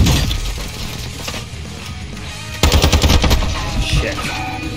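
Automatic gunfire in the Warzone 2.0 video game rattles in a fast, loud burst midway through, backed by mechanical clatter and other battle effects from the game.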